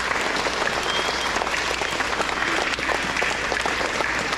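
Dense, steady applause from an elementary school audience honoring art award winners at a grades 3–5 awards ceremony, many hands clapping continuously and evenly throughout.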